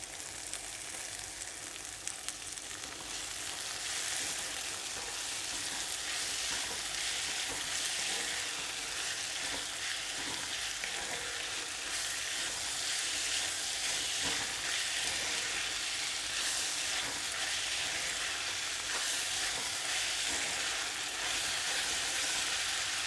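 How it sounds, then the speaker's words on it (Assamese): Cabbage frying over a high gas flame, a continuous loud hiss and sizzle with occasional stirring scrapes, close and steady throughout with no talk. "গেছৰ ফ্লেমটো একদম হাইত ৰাখিব লাগিব। তাৰপিছত দিছোঁ বন্ধাকবি।"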